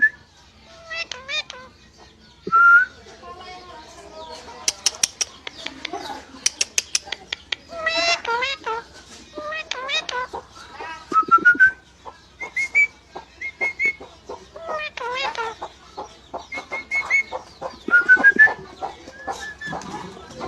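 A pet parrot named Mithu whistles close by in bursts of sharp, rising and falling notes, chirps and trills, with short pauses between phrases, alone against a quiet room.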